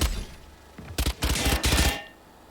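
Gunfire in the video game Valorant: several rapid automatic bursts of shots in quick succession, loud and close, separated by short pauses, then fading into a low tail.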